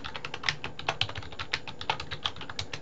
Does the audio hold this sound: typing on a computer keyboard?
yes